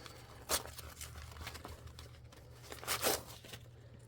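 Tearaway embroidery stabilizer being pulled off fabric after appliqué, heard as soft crinkly tearing with two louder rips standing out over a low background hum.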